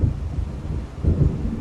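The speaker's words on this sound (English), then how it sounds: "It seems there's a storm coming." Thunder from an approaching storm in the video game Alan Wake rolls low and heavy, with a deeper boom swelling near the end over a faint wash of rain.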